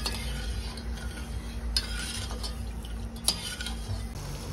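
Sugar syrup for Alphonso mango muramba is stirred in a pot as it dissolves and nears the boil, with a steady low simmering hum, soft scraping and a couple of sharp spoon clinks against the metal.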